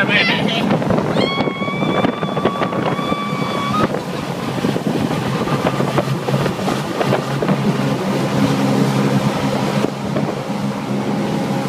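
A Shuttle Craft Sport Deck motorboat running at full throttle through a sharp turn on the water at Mäntyharju, its engine roaring steadily and close amid heavy wind buffeting, with a brief rising whine partway through.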